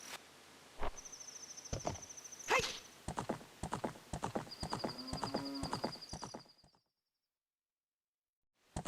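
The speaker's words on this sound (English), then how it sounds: "gonna get my fucking horse out of here" A horse gallops in The Legend of Zelda: Ocarina of Time, with rhythmic hoofbeats and a neigh over faint insect chirping, then the sound cuts to silence near the end.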